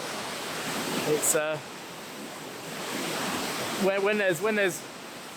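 Beasley Falls, a waterfall in the Yorkshire Dales, gives a steady broad rushing roar throughout, while a person speaks briefly over it twice.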